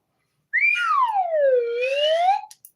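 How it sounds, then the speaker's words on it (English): A slide whistle plays one long sliding tone that drops in pitch and then climbs back up, loud and alone, followed by a few faint clicks. "That's enough of the slide whistle."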